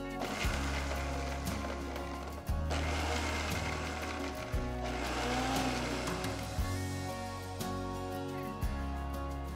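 A kitchen blender pulsing large garlic cloves for Andhra gongura chutney, several short whirring bursts of the motor in a steady rhythm, each spinning up and cutting off, close and fairly loud.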